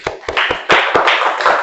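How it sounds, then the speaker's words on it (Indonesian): A class of students claps in a rhythmic chant-clapping routine as a classroom ice breaker: a few spaced, sharp claps, then a dense, sustained burst of loud group clapping to the end. "tepuk tangan buat kalian"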